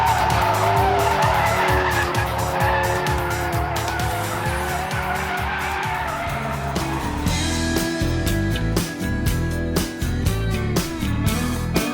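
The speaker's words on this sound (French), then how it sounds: "un mode drift transforme les novices en rois de la glisse" A Ford Focus RS slides in drift mode, its tires screeching loudly and continuously alongside engine noise, with the squeal rising and falling in long sustained bursts and no speech.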